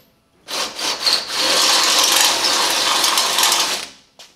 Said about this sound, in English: just get the right size drill bit, 12mm in this case, and just go send it straight through